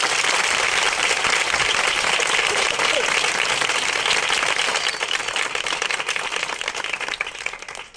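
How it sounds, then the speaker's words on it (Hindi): A church congregation applauds loudly and steadily during a worship service, a dense wash of clapping that holds for several seconds before starting to thin slightly toward the end. "जोरदार तालियां दीजिए।"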